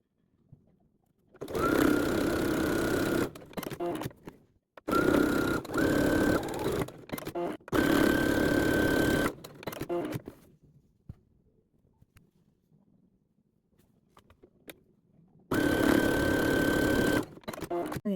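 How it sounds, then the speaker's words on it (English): A serger sews the bottom hem of fabric ruffles in four loud whirring runs of a few seconds each, separated by quiet pauses and faint handling sounds. "I am going to serge my bottom hem of all of my ruffles"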